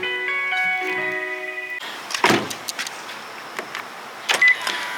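A 2015 Hyundai Grandeur HG 2.2 diesel idles with a steady tonal hum that cuts off after about two seconds as the engine is switched off, followed by quiet cabin rustles and faint clicks.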